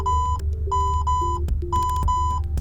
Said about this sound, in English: that alarm goes off, it might startle you